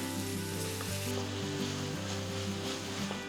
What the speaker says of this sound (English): Then add 1 finely chopped tomato and cook everything for about a minute.